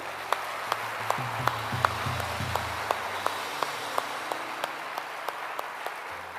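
Audience at a defence academy event applauds the nation's brave women and army wives, a steady, moderate patter of many hands with sharp periodic accents and a low musical drone underneath.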